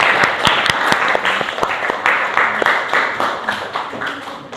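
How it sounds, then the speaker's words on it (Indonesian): A classroom of students applauds a student group, a dense run of close, loud hand claps with sharp individual slaps that holds steady before tapering slightly at the end. "Beri aplaus untuk kelompoknya Triska."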